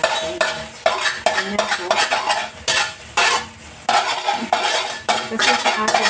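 Tomato and egg fry in a pan for a Chinese-style dish, a soft sizzle under repeated scraping and clinking stirs of a utensil against the pan, with a brief spoken word.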